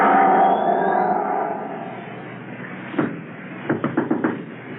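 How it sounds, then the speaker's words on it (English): Radio drama effect of a door being pounded and broken down: a strained rising sound fades out, then a run of heavy, close thuds and bangs in a quick irregular burst near the end. "He'll break down the door in a minute."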